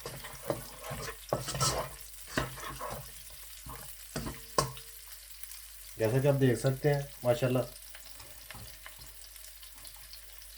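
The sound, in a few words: onion and garlic frying in oil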